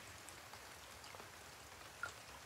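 Steady rain falls in the video game INMATE: Survival, a continuous soft hiss of drops with a few slightly louder taps, fairly quiet and heard alone.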